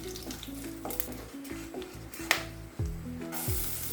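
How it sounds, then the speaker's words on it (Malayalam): Spices including cardamom and fennel seeds are stirred in a hot frying pan for egg rice, giving a steady sizzle with scraping stirs and a few sharp clinks close up. "എല്ലാം ചേർത്ത് ഇളക്കി കൊടുക്കണം കേട്ടോ."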